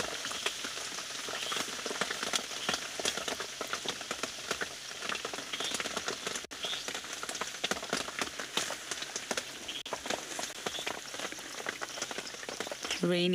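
Steady rain patters on a surface throughout during an evening wildlife safari by a hippo, a dense continuous hiss of drops with scattered louder taps, close and even, with no voices.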